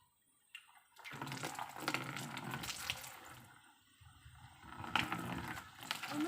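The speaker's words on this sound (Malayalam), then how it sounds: "ഓക്കെ, ഇനി നമുക്ക് ഇതിലേക്ക് വെള്ളം നിറക്കാം." Water runs from a pipe into a bucket being set up as a guppy tank, a steady rushing pour that starts after a second, swells and dips, then strengthens again near the end, close and fairly loud with no talking.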